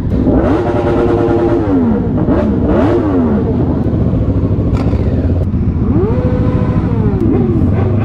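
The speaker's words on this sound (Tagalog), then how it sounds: "Dumadagong-dong ang mga makina." Many motorcycles rumble and rev at a large gathering of over 3000 riders, engines idling loudly up close with several rising and falling throttle blips and passing machines, no talk.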